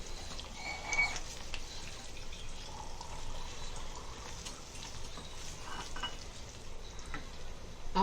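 Chicken tikka masala sizzles softly in a pan after a splash of water, a faint steady crackle and bubbling with light stirring scrapes, alone without talk.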